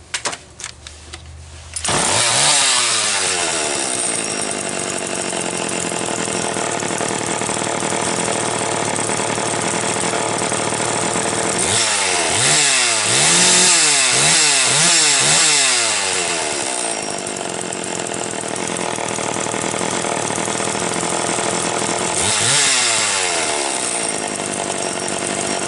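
A Homelite 150 chainsaw engine starts and runs loud and close, holding a steady buzzing idle with repeated revving swells partway through and again near the end.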